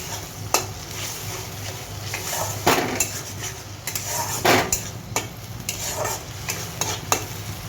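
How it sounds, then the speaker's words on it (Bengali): Spice paste of salt, chilli powder and turmeric with a splash of water, fried for katla fish kalia, is stirred in a pan: close, repeated spatula scrapes and metallic clinks over a steady low sizzle, with no talking. "মশলাটাকে এবার কষাবো"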